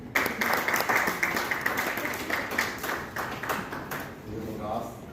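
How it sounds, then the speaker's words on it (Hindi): At a closing ceremony for an MBA-IT program, the audience breaks into clapping, a burst of sharp, fairly close handclaps that thins out over several seconds while a voice talks over it. "ये वाले पे तालियां बजानी प्लीज."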